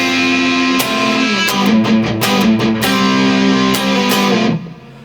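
Distorted electric guitar playing the bridge riff, loud, driving palm-muted chugs and sustained power chords, with no talk over it.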